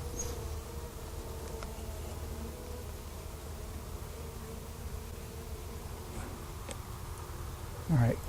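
Close, continuous buzzing of many honeybees at an open top bar hive fills the air, a low steady hum with faint clicks and a brief louder swirl near the end.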